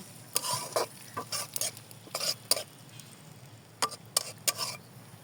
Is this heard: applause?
no